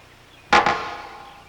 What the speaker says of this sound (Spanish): Lo que oyeron, claro, es el eco.